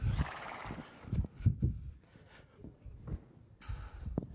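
A horse neighs and snorts close by in a live stage comedy setting, with rough breathy whinnies and low grunting bursts over a faint background.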